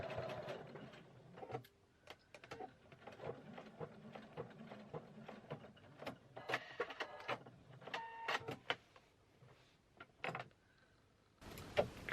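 A sewing machine stitches a tote bag seam in short, uneven bursts of whirring motor and needle clatter, with pauses, handling noises and quiet sounds between runs.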